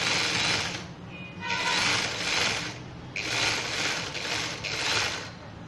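A sewing machine runs in bursts of rapid mechanical clatter while stitching the gathering on an umbrella sleeve, with short pauses between runs, close and loud with no talk.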